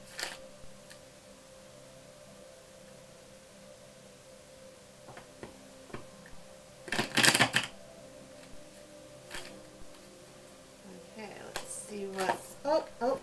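Quiet room tone with scattered light taps, then a short burst of rapid riffling tarot cards being shuffled, followed by more brief card flutters and clicks.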